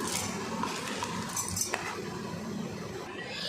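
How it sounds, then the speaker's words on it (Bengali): Cooled chutney ingredients are tipped into a mixer grinder jar, giving soft, steady clinks and rattles of utensil against the jar over a constant kitchen background, with no talking. "এবার আমি বেটে নেব, চাটনিটা তৈরি করব, তার জন্য মিক্সি বাটির মধ্যে দিয়ে দিলাম"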